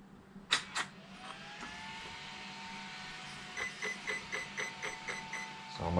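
A Traxxas Xmaxx 8S RC car motor, fitted with new bearings and held by hand, spins at low throttle with a faint steady whine, a few sharp clicks at the start and a soft rhythmic pulsing toward the end.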